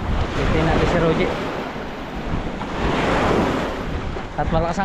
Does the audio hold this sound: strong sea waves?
yes